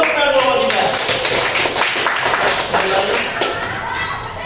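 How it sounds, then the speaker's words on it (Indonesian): Classroom applause during a digital security micro-teaching lesson, a steady dense patter of many hands clapping throughout, with some voices mixed in. "Oke, kasih tepuk tangan dulu kita."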